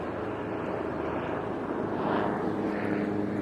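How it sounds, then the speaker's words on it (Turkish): Steady low engine drone of a helicopter passing overhead, a broad rumble that swells slightly toward the end, with no talking. "Helikopter gidiyor."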